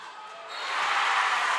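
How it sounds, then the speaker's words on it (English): Volleyball fans of New Bremen cheering in a frenzy at a tournament match in a gym, a broad crowd roar that swells after the first half second and stays loud and sustained. "New Bremen fans in a frenzy."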